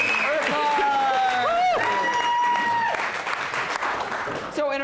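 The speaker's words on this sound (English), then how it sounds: "round of applause for Kate" Theatre audience applauding a performer at an improv comedy show, a steady wash of clapping heard alongside voices and a tonal, wavering vocal sound.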